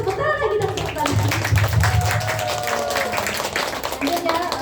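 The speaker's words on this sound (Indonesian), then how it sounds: "Tepuk tangan lagi dong, tepuk tangan." An audience claps at an Indonesian religious study gathering, a dense patter of hands running throughout, fairly close and moderately loud, with voices mixed in underneath.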